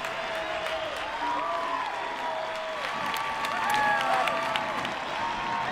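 Stadium crowd roaring and applauding after a goal in an NCAA women's soccer tournament match between Penn State and Florida State, a steady wash of cheering that swells briefly near the end, with a commentator's voice over it.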